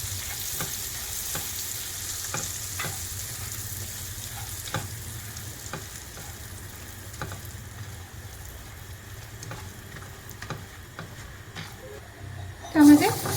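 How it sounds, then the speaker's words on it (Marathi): Whole spices frying in hot butter and oil, a soft continuous sizzle with scattered light crackles and pops throughout, fairly faint, with speech heard over it and a brief louder clatter near the end. "बटर छान गरम झालं आहे. ह्यामध्ये आपण खडे मसाले ॲड करू."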